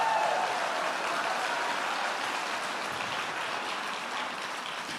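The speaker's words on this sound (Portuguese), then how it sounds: "Pode aplaudir, está entendendo?" Congregation at a Brazilian evangelical church service applauding, a dense steady wash of clapping that fills the whole stretch and eases slightly toward the end.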